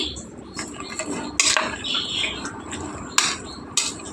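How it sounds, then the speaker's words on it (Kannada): Ivy gourd tossed with salt in a pan, a metal spoon scraping and stirring close up, with a steady rustle broken by a few sharp clanks against the pan's side. "ಈಗ ತೊಂಡೆಕಾಯಿ ಬೇಯಲಿಕ್ಕೆ ಸ್ವಲ್ಪ ಉಪ್ಪು ಹಾಕಿ ಮಿಕ್ಸ್ ಮಾಡಿ"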